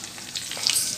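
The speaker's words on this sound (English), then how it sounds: "Then now we will add ginger garlic paste." Ginger garlic paste frying in a hot pan, a close, bright sizzle with small crackles that grows slightly louder over one short second.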